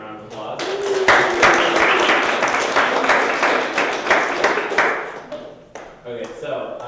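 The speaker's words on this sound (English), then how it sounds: "We're going to give her a second round of applause." An audience claps in a second round of applause for a guest speaker, fairly close and loud, swelling then tapering off while voices talk over and around the clapping.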